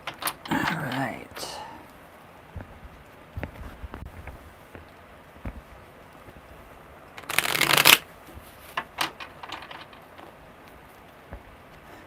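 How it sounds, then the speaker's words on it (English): Tarot cards are riffled and shuffled in soft, intermittent bursts, with one louder, longer shuffle near the middle, set against a quiet room with faint handling noise. "Really smooth shuffles."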